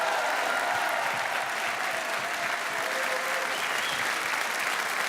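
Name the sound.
audience applause for a rock band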